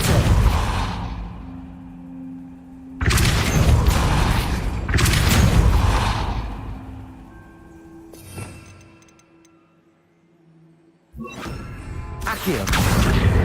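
Casting the Depulso spell in Hogwarts Legacy: several loud, booming magical blasts with a rushing whoosh hit in bursts. A quieter rumbling lull with faint mechanical clanks falls between them, then one more heavy burst.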